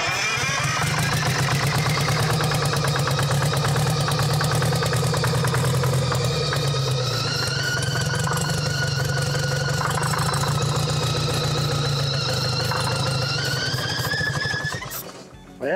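A Detroit diesel engine in a motor grader, locked up for seven years, cranks over on its starter in a steady, loud, rapid churning rhythm for about fifteen seconds before it cuts off abruptly.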